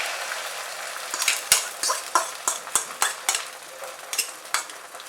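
Egg omelette frying in oil in a wok, with a steady sizzle and a series of sharp metal scrapes and taps from stirring that come at irregular intervals, close and moderately loud.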